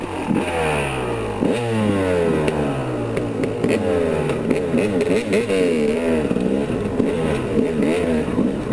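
Two-stroke racing dirt bike fitted with an aftermarket kickstand, ridden through snow: a loud, close engine buzzes and revs continuously, pitch climbing and dropping with throttle changes throughout.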